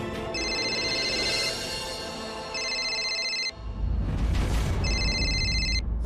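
A telephone ringtone plays loudly in repeated electronic bursts, pausing briefly between rings, with low rumbling background sound underneath and no talking.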